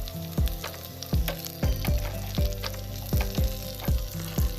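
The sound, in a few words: potatoes frying in pan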